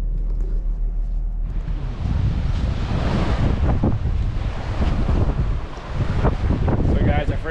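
Gusty wind roars against the microphone on a blustery beach on Grand Cayman, with surf washing in underneath. The sound is loud and turbulent, rising and falling in buffeting gusts.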